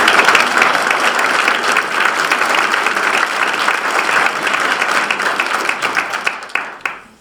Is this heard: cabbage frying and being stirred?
no